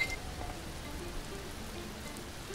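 Rain falls steadily in the survival video game Mr. Prepper, a soft, even patter on surfaces that holds at low volume throughout with no voices.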